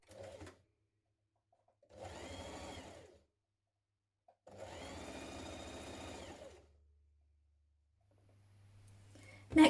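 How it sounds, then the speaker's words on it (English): A sewing machine stitching the outer edge of dress collars runs in two close bursts, one short and one longer, separated by silence, with a low hum and clicks at the end. "we're going to sew the outer edge"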